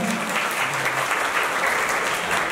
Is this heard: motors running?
no